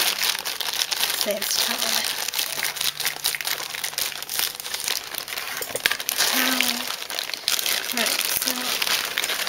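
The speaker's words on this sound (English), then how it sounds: "let's roll it up like this, so I can cut it all at once." Action-figure plastic packaging crinkles and rustles continuously as it is rolled up and cut, a steady close crackle under someone talking.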